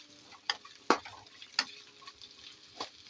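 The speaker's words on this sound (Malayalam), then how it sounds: "ഇഞ്ചിയുടെ പച്ചമണം മാറുന്നവരെ നമുക്ക് ഇളക്കി കൊടുക്കാം." Sliced ginger fries in a pan while a spatula stirs it in a few sharp, separate scrapes over a quiet background sizzle, close by.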